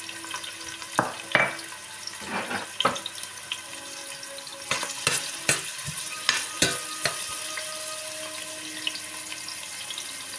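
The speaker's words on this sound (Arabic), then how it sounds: "نبداو في طنجرة كبيرة نحطو شوية زيت نباتي ولا زيت زيتونة، وعنا بصلة مقصوصة باش نحطوها تتقلى شوية." Chopped onion fries in vegetable or olive oil in a large pot. A steady low sizzle sits under several sharp knocks and clatters of a spoon against the pot, spread irregularly through the clip.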